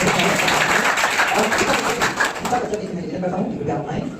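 Applause from an audience at a stage ceremony in Farrukhabad, dense clapping that fills the whole stretch and thins toward the end, with crowd noise mixed in.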